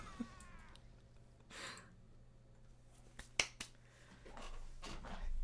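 A house cat meows briefly near the start, followed by a sharp snap-like click and scattered low background rustles in a quiet room.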